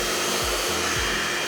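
Steady loud roar of a blow dryer drying hair with a brush, close and continuous with a low pulsing hum underneath and no talking.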